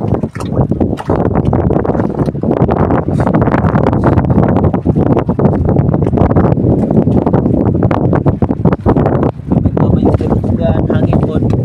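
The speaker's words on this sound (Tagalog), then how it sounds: "Hangin po." Wind blasts continuously across the microphone, a loud, dense rumble with constant buffeting and no letup.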